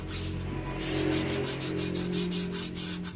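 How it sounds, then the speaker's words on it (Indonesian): Sandpaper rubbed by hand against a motorcycle brake drum makes a steady rasping scrape, with quick rhythmic strokes repeating close by and no voices. "menggunakan amplas tentunya sebelum dipasang kembali"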